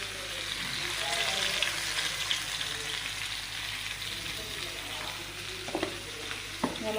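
Raw mango dish with turmeric, coriander powder, garam masala and salt sizzling steadily in a pan while a spoon stirs it, with a few louder scrapes near the end.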